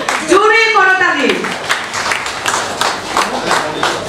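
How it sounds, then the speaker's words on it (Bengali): An audience applauds at the anniversary celebration of the newspaper Gonodhoni Protidin. A voice speaks briefly over a public address, then loud, dense clapping from a large crowd follows and continues. "অনুষ্ঠানকে সাফল্যমণ্ডিত করবার জন্য জোরে করতালি"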